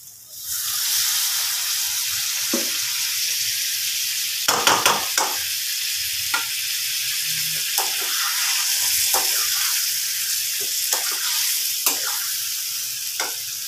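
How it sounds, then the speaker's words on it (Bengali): Soybean curry sizzles steadily in a frying pan while a spoon stirs it, with intermittent scraping strokes cutting through the constant close hiss of the frying. "ভালো করে মিশিয়ে নেব। আরো একটু জল দেব।"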